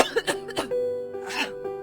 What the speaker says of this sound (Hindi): अचानक तेज खांसी शुरू हो गई